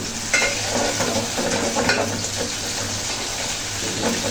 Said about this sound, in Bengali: কিছু সময় নিয়ে এইভাবে ভেজে নেব মাছের পেটিগুলো